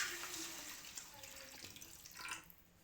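A small metal pot is filled to the brim with water in a home kitchen, a faint, steady pouring and trickling sound heard at low volume.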